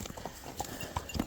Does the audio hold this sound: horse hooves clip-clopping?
yes